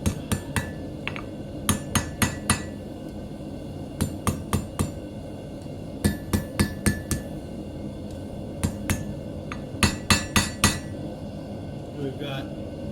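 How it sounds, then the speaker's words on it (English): A hammer strikes hot metal on an anvil while forging hairpins, sharp ringing clinks coming in quick bursts of three to five blows separated by short pauses, close and clear with no talk. "We can also go use the anvil for it."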